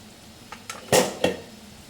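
A spoon stirs salt, coriander-cumin powder, red chilli and turmeric into vegetables in a metal pan, making a few sharp scrapes and clinks, two louder ones close together.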